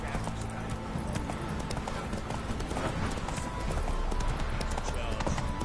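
Horse hooves clip-clop steadily in a PS4 video game, a dense, continuous trotting patter heard close over the game's background sound and a voice talking.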